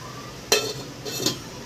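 A lid set down on a cooking pot heating cumin and mustard seeds for onion sabzi, two brief metallic clinks about three-quarters of a second apart, close and clear with no talk.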